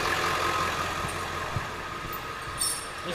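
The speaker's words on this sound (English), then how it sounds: "The truck is so loud just sitting there." A 7.3 Powerstroke diesel truck idles loud and steady nearby, a constant low rumble with no talking over it.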